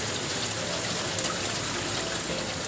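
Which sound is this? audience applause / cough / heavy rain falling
heavy rain falling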